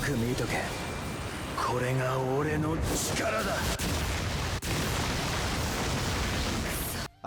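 A Soul Bomb special attack goes off in the mobile game Bleach: Brave Souls, a loud sustained blast of roaring, crackling explosions with game music tones over it, running steadily for several seconds before cutting off.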